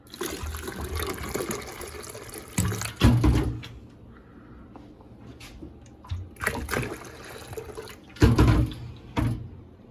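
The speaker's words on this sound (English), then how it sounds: "So we're gonna go ahead and add some water here." Water pours into a jug for lemonade in several loud, splashing bursts with quieter trickling between them, close up and free of talk.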